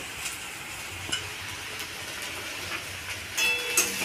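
Drumstick leaves seasoned with salt and turmeric fry in a pan while being stirred, giving a soft, steady sizzle with a few scattered spatula scrapes and taps, fairly quiet throughout.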